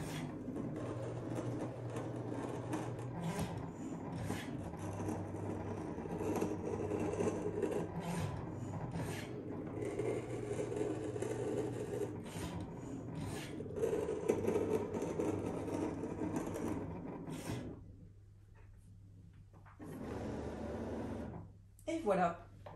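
A Cricut Maker 3 cuts fabric pieces for a Christmas stocking, giving a continuous scraping, motorized rasp with shifting tones close by, ending in a brief quiet stretch and a few clicks.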